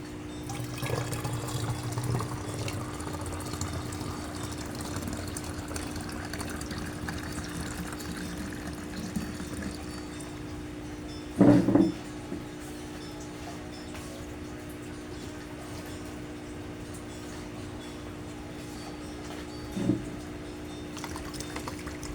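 Water runs steadily into a container from a tap, a soft continuous pouring and filling sound with a couple of brief clunks partway through, indoors and fairly quiet.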